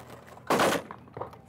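A single loud shotgun blast from a Stoeger M3020 or Benelli Ethos during clay shooting at SHOT Show 2014, heavy and close, with quieter outdoor noise around it.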